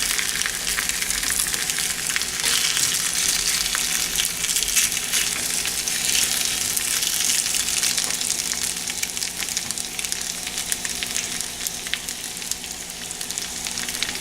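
Potatoes with rosemary and garlic tossed in a hot frying pan give a steady, loud sizzle and crackle that holds unbroken throughout, with soft stirring scrapes mixed in.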